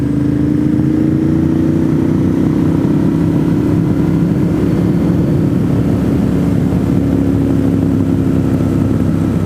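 A Triumph 400 motorcycle on the road, its engine droning loudly and continuously with a steady buzzing tone and rushing wind, heard close from on the ride without pause.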